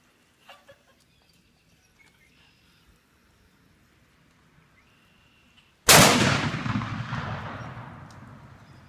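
A single loud shotgun blast goes off outdoors after several seconds of near silence with faint background noise. Its boom decays slowly over the final three seconds.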